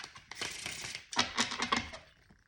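A thick tarot deck split into two halves and riffle-shuffled, giving dense bursts of quick papery card flutters in a few close, loud passes.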